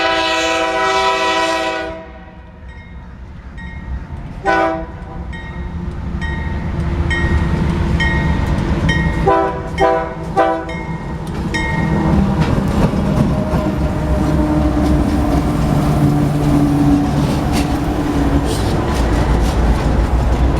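A BNSF freight train, K201, passes close by, opening with a loud blast of its horn, then a brief second horn note, followed by a long, steady rumble of railcars rolling past.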